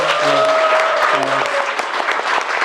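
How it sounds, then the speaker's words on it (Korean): An audience claps in a steady wash of applause, with a voice speaking briefly over it at the start. "박수 한번 주세요"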